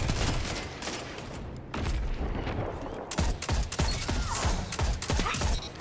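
Video game match gunfire: bursts of sharp, crackling shots, sparse at first, then repeated clusters of distinct cracks in the second half, moderately quiet.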